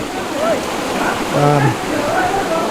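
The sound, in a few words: glacial river water running from taps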